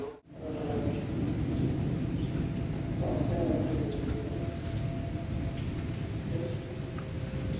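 Steady rain falls in a thunderstorm with a low rumble of thunder spread through the dense wash of downpour, heard close and continuous for several seconds.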